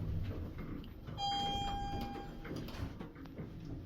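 An Otis traction elevator's door slides shut in a quiet lift, while a steady electronic tone sounds for under a second and light mechanical rumble continues.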